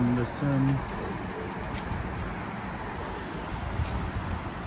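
Pigeons cooing inside a multi-storey coop, heard as a few soft, brief coos near the start over a steady, noisy room background.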